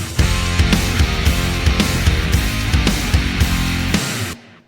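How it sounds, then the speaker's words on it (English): A full mixed drum kit, treated with parallel compression and reverb, plays a punchy groove of steady kick and snare hits with cymbals, loud and big-sounding, then stops abruptly into a short reverb tail. "You got massive drum sound with a little bit of parallel compression, a couple of free reverbs, impulse responses."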